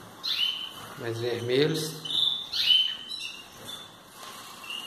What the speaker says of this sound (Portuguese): Tem 12 canários aí nessa parte do voador.